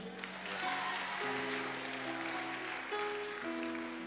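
Church congregation applauding during a worship service, a steady wash of clapping that runs throughout at moderate level, with sustained organ or keyboard tones underneath.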